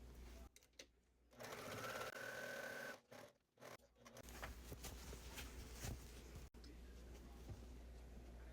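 A sewing machine stitches a pumpkin trick-or-treat bag shell in short whirring bursts broken by pauses, with a few light clicks and fabric handling sounds, fairly close and quiet.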